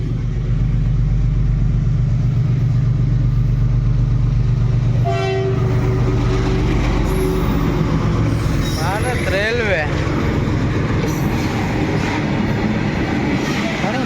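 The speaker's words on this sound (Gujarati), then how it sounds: "આવી રેલગાડી" A train rumbles past nearby, its heavy low roar steady throughout, with a horn sounding partway through and faint voices in the background.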